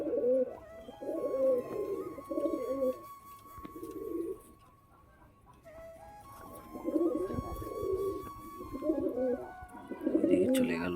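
Pigeon cooing close by in repeated low, throaty bursts, with a short quieter gap in the middle before the cooing resumes; a few thin tonal sounds run faintly underneath.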